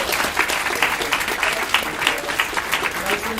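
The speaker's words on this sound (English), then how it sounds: "Can we give one more big round of applause for Chef Sean?" An audience at a cooking demonstration gives a chef a big round of applause, dense continuous clapping with crowd noise that holds steady throughout, with a voice faintly mixed in.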